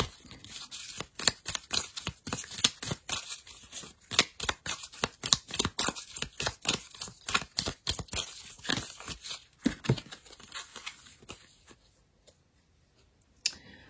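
Oracle cards being shuffled and drawn in a quick run of crisp, papery flicks and slaps, close and fairly loud, thinning out toward the end before a final soft tap near silence.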